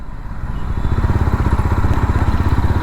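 A Jawa 42 FJ 350 motorcycle engine pulls away from idle, its steady loud single-cylinder pulsing thump rising slightly in pace throughout with no talk.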